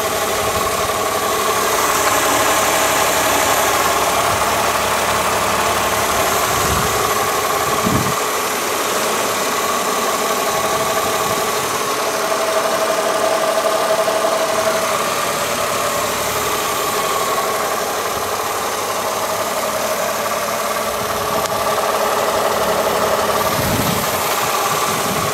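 The 3.2-liter inline-six of a 2003 Mercedes-Benz E320 idles steadily and loudly up close, a smooth, even hum with light mechanical ticking and occasional low thumps.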